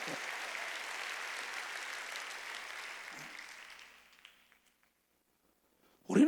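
A church congregation at a Korean Sunday worship service clapping together, a broad sustained wash of applause that fades away to silence, then a brief loud burst at the end.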